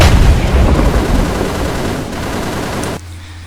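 Loud, dense gunfire from a German battleship build in the Roblox game Plane Crazy roars as a continuous close barrage, then cuts abruptly to a low hum near the end.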